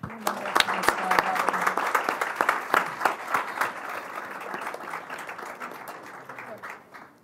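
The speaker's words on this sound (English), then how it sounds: "So please give Sarah a round of applause" A school audience at an education awards event claps for Sarah, a lively burst of many hands with sharp individual claps up front, peaking early and gradually thinning as talk murmurs underneath.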